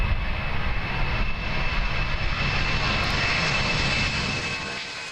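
The engines of a large firefighting air tanker plane roar steadily and loudly at an airport with a nearly 12,000-foot runway, a broad sustained rumble with a high whine that fades slightly toward the end.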